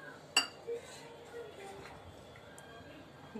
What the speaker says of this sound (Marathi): चला आता आपण ताट भरूया देवाला नैवेद्यासाठी.